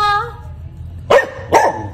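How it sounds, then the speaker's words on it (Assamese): Two sharp dog barks ring out close by, one after the other, on a busy street during Durga Puja festivities in Assam, over a low steady crowd hum. "তেখেতক চাই পুৰা ভুকি আছে"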